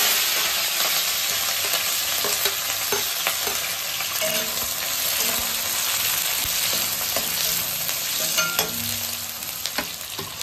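Onion, curry leaves and green chillies sizzle steadily in oil in a pan, a continuous close frying hiss with occasional stirring clinks and scrapes, no voices.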